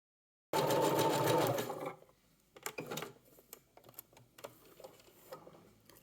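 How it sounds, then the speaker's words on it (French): A sewing machine runs a zigzag stitch along elastic edging on fabric in a quick burst of rapid mechanical stitching, followed by scattered soft clicks and ticks. "Côté doux de l'élastique vers moi, bord droit de l'élastique contre le bord du tissu, sur l'endroit du tissu, et on pique au point zigzag"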